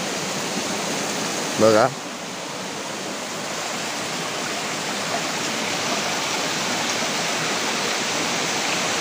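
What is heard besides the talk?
waterfall at a temple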